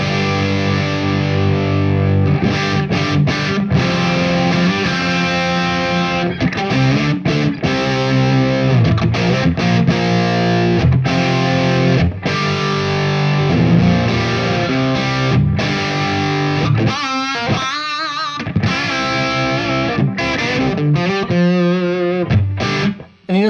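Distorted electric guitar played through an overdrive pedal with the tone control turned up high, giving a bright, brittle edge; loud sustained chords and riffs continue throughout with short breaks, and no voice is heard.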